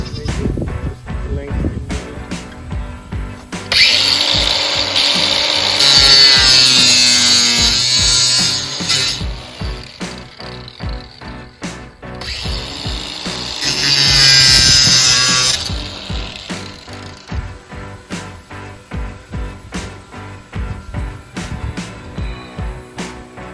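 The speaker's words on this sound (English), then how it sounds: "You're going to cut it to the support size you need?" A power saw cuts a wooden support for a hay feeder in two sustained, loud whining passes, with clattering handling knocks and taps of wood before, between and after the cuts.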